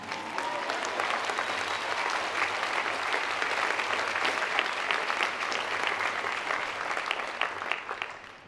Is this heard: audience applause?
yes